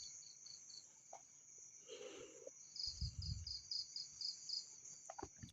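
Crickets chirp steadily at night in a continuous high trill with pulsing bursts, joined by a soft low rustle midway, no voices.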